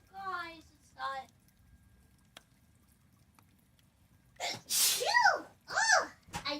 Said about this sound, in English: I just dusted my whole PC tower and I'm sneezing. Like crazy.